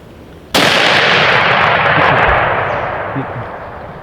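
A single loud rifle shot fired at a wild boar on a hunt cracks sharply, then leaves a long rumbling echo that fades slowly over several seconds, with no voices over it.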